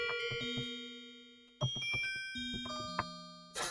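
Bell-like tones from a software synthesizer using phase modulation ring out in a short run of separate notes, each with bright, shimmering overtones that sustain and overlap. No voices.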